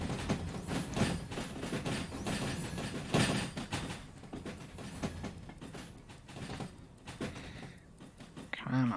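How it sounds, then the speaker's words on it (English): In the VR game Derail Valley, a train's brakes are applied, bringing a continuous rolling rumble with clanks and rattling from the wagons, fairly close, under intermittent talk. "let's start hitting the train brake"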